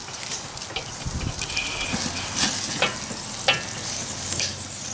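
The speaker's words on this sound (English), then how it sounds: "I'm going to crisp up this bacon." Bacon wrapped around rosemary chicken sizzles and crackles steadily in a hot pan, a dense frying hiss with a few sharper pops and spits breaking through, no voices present.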